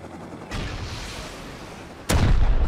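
A rocket launcher fires in the game Rust, with a loud broadband blast that sustains from about half a second, followed by a second, sharper and louder boom near the end.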